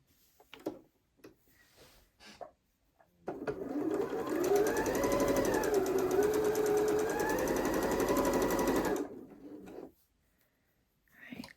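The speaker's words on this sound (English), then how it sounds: "sew a 1/4 inch seam" A sewing machine stitches a quarter-inch seam on quilt pieces for a mosaic block, running in one steady buzzing burst of about six seconds, close and loud, framed by quiet handling clicks of fabric before and after.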